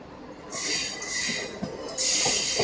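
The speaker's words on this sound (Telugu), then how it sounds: "అక్కడ ఒక ట్రైన్ ఏదో వస్తుంది" The Visakha Express passes near the Secunderabad to Siddipet DEMU line, a short spell of rolling rail noise with bright metallic hiss and squeal surging in waves.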